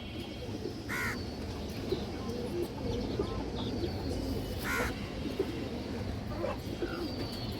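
Female pigeons coo softly in a couple of brief, faint bursts over a constant rough background hiss.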